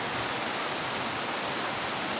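Steady heavy rain falls during windy weather, a continuous even hiss of downpour at moderate distance, unbroken and free of speech.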